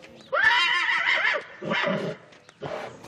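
Trait du Nord draft horse, a mare, whinnying loudly and close, one long shrill neigh followed by two shorter snorting calls.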